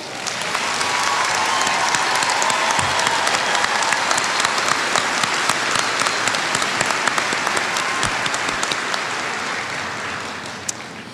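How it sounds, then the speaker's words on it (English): Sustained applause from a large commencement audience for graduates, dense clapping that swells quickly, holds steady for several seconds, then begins to thin toward the end. "Let's give the graduates their first round of applause."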